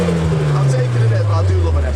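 A Nissan S14A with its SR20 engine and stage 1 remap revs loud and close, its pitch sliding steadily downward as the revs fall over a couple of seconds.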